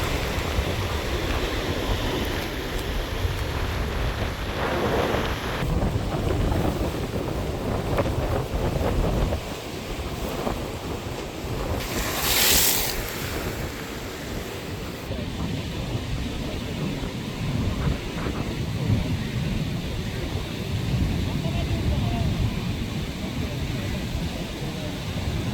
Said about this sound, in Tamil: அதிலும் பார்க்க பெரிய பெரிய அலைகள் தான் இங்கே வருது